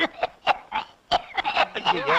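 A person coughs and clears their throat in short repeated bursts, mixed with breathy chuckling, close to the microphone.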